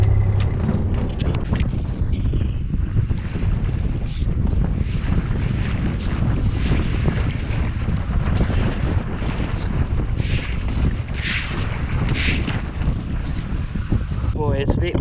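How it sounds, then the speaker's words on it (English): Strong wind buffets the microphone on a farm, a continuous heavy low roar with gusting bursts, with some faint machinery and movement sounds underneath. "Boy, it's a bit windy."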